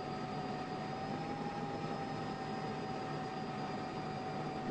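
A jet aircraft taxiing to the runway in the Falcon 4 BMS flight simulator game, with a steady, even engine whine and drone holding constant throughout, without other sounds.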